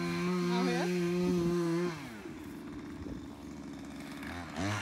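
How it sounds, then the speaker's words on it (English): A chainsaw drones steadily, loud at first, then drops to a lower, rougher idle that continues in the background. "ignore the chainsaw in the background"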